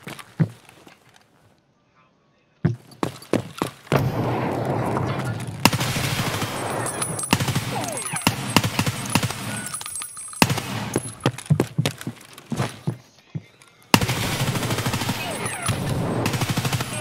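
Rapid bursts of gunfire in the Escape from Tarkov Shoreline Resort map: loud automatic volleys and single shots repeat throughout, broken by short pauses and a brief near-silent gap near the start.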